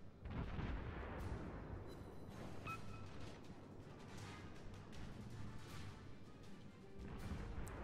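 Naval gunfire from an enemy warship in World of Warships: heavy booming shell impacts and crashing blasts over a constant low rumble, fairly steady and moderately loud.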